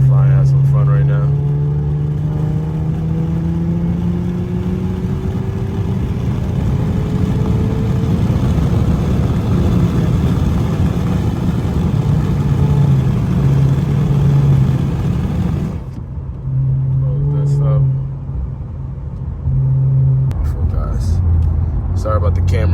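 Twin-turbo Infiniti Q50 accelerating hard on an upstate New York road, its loud engine rising in pitch through the gears and dominating the cabin, with a brief lull near the end before the drone picks up again.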